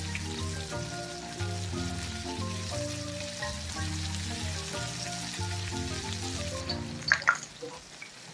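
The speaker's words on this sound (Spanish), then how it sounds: "Aquí ya tengo en el fuego aceite caliente." Green beans coated in egg fry in hot oil with a steady, dense sizzle that crackles throughout, under tonal background music, with a few sharper pops near the end.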